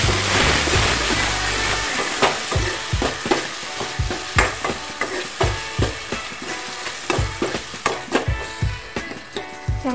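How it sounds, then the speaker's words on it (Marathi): Two chopped tomatoes being sautéed with salt in a pan for a sprouted matki curry, an initial loud sizzle followed by a rhythmic series of spatula scrapes and stirs over steady frying, close up and without speech. "चांगल्यापैकी परतून झालेले आहे टमाटर"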